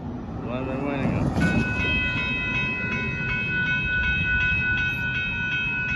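Southbound Union Pacific local freight train passing a road crossing in Austin, Texas, with a steady loud rumble of rolling cars and a sustained horn tone sounding throughout.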